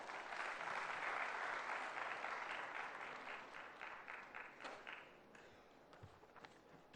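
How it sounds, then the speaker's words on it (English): An audience at a literary festival claps warmly. Dense, loud applause swells at the start, then thins into scattered claps and fades, with no talking. "A warm round of applause as we welcome her."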